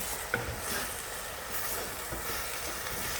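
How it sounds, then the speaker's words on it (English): Steady sizzling of ground hamburger meat frying in a pan while a utensil stirs and breaks it up, a continuous close hiss with faint scraping and no voices. "we're just going to keep stirring and breaking this up until our hamburger's fully cooked"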